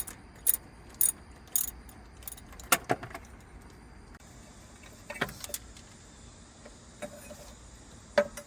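Light metallic clicks and jangles from a ratchet loosening alternator bracket nuts on a 2002 Ford Crown Victoria, quiet, intermittent bursts with pauses between them and no talking.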